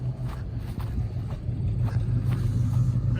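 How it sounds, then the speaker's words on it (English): A Ford V8's single exhaust burbles at idle from close behind the car, a steady low rumble with faint rhythmic pulsing throughout. "Let's give a listen to the exhaust back here."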